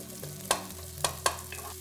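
Onions frying in oil for Kenyan chicken pilau, with a spoon scraping the pan in three sharp strokes over a steady low sizzle, heard close and with no voices.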